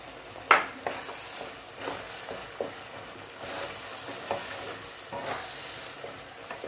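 Bottle gourd cooked with poppy seed paste is stirred in a pan, with soft scraping strokes at an irregular rhythm over a low, steady sizzle of frying.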